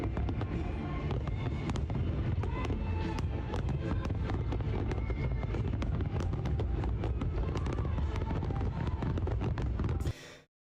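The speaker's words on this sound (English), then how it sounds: "if there wasn't so much fog, you could see all the fireworks further back" Fireworks burst continuously through heavy fog at a celebration, a dense, loud barrage of pops and booms rolling together for about ten seconds before cutting off abruptly.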